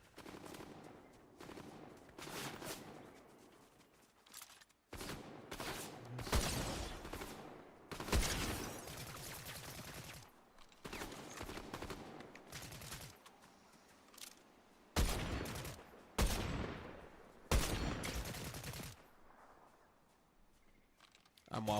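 Gunfire in the video game Fortnite comes in repeated loud bursts of rapid shots separated by short gaps, with a player talking over the action.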